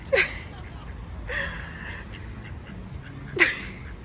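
A few sharp duck quacks, including from a green-headed duck, sound over faint outdoor background noise, one near the start, one in the middle and one near the end.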